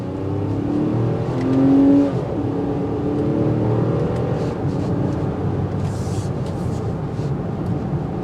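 Steady low road rumble and engine drone inside a moving 2023 Nissan Pathfinder Platinum, continuous throughout with a brief louder surge early on.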